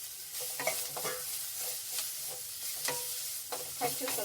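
Coconut pieces fry in a pan for mushroom chops gravy, a steady close sizzle broken by repeated scraping stir strokes from a spatula, with no talking.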